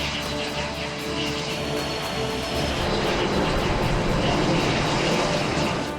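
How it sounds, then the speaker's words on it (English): Formation of Patriot flight jets taking off from runway 28 right at San Francisco, a steady, loud broadband engine roar that holds and builds slightly over several seconds, with no talk. "Patriot 1 flight's clear for takeoff"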